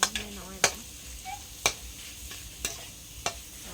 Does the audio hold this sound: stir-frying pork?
yes